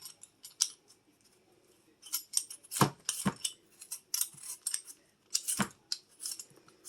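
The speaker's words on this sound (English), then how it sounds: "When you wet the potato first, the peels just slide right off." A wet potato is peeled by hand over a cutting board, giving close, crisp scraping strokes in irregular bursts, with a few sharper knocks against the board. No one speaks.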